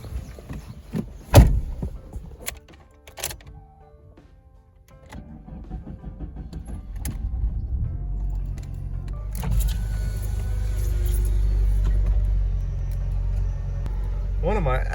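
A few sharp clicks and clunks come first, then an engine fires up and settles into a steady, low, rumbling idle that carries on to the end.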